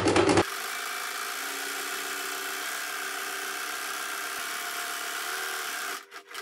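A sewing machine stitching apron material runs as a steady, even motor whir with rapid needle chatter, close and alone, then slows and stops near the end.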